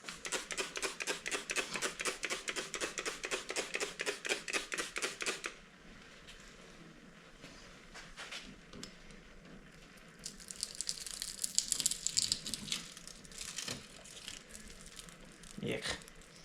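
A razor blade held flat scrapes window tint off car glass in quick, rhythmic strokes, then gives way to quieter rustling and scattered scrapes.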